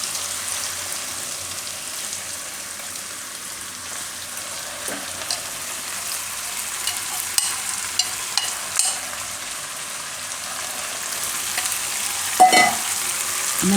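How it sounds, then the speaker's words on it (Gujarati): Washed rice is tipped into a hot pot of carrots and peas for pulao. It makes a soft, low sizzle, with scattered small clicks and scrapes from grains and a spoon. No one talks. "હવે આપણે આ ચોખા છે ધોયેલા એ આમાં નાખી દેવું."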